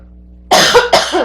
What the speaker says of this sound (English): I got a cough in